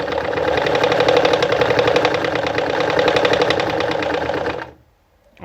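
Pfaff model 210 sewing machine stitching a buttonhole, a steady rapid mechanical chatter of the needle running continuously and close for several seconds, then stopping abruptly near the end.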